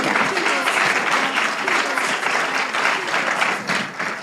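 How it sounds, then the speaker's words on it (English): Keynote speaker at an agribusiness conference receives steady, dense audience applause that fills the whole stretch at an even loudness, with no pauses, close and full-bodied. "Please let's give a befitting round of applause to our keynote speaker."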